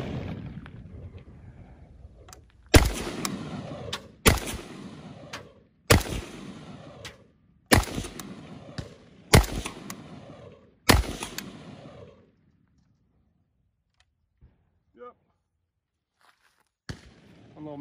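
A rifle fires cheap Tula steel-case ammunition in six sharp, evenly spaced shots with short echoing tails, followed by a few faint clicks and quiet handling.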